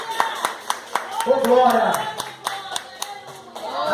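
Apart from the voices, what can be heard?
congregation clapping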